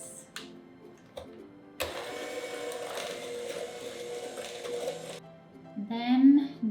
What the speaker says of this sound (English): 1 cup of white sugar and half a cup of light brown sugar. And mix.